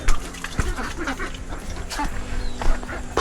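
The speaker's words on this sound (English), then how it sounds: "Happiest looking ducks in the world now." Ducks quack intermittently at moderate distance in rice fields in Sidemen, Bali, mixed with outdoor ambience and scattered bird calls, no clear talking.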